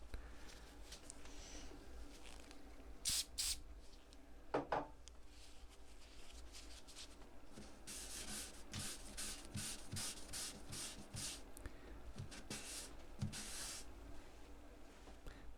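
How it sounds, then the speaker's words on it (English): A rag rubs shellac sealer into the grain of bare wood on an acoustic guitar, making soft, close, repeated scrubbing strokes with a few brief knocks, and there is no talk. "So my first little sealer coat on this bare wood is shellac. I'm just gonna rub it into the grain."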